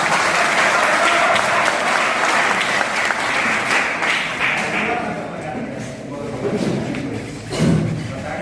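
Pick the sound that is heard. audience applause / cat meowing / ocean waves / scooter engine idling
audience applause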